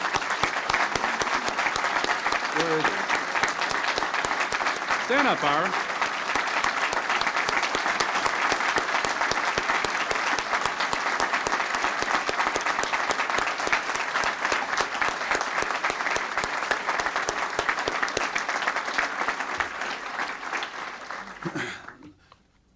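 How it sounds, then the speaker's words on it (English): Sustained audience applause at a 1998 presidential event on electronic commerce, honoring Ira Magaziner; dense steady clapping fills about twenty seconds, with brief voices calling out over it before the clapping fades away at the end. "I would like to ask all of you to join me in giving a round of applause to Ira Magazine."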